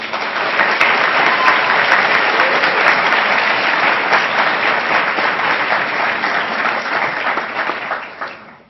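Loud, sustained applause from an audience welcoming a speaker to the podium at a public address at Harvard, steady dense clapping for about eight seconds before tapering off.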